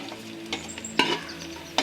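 Finely chopped garlic fries in oil in a pan for ginger pickle, a soft steady sizzle broken by a few sharp scrapes of stirring, heard up close and alone.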